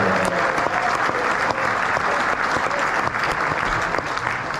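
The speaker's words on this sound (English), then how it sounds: "got a round of applause" A theatre audience at a West Ham legends night applauds steadily, a dense, loud wash of clapping that holds without a break from start to finish.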